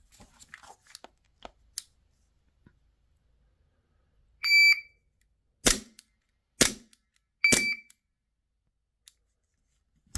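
A MOD shot timer gives sharp electronic beeps, with a few loud, quick cracks of shots or clicks following in a separated rhythm, close by with no talking.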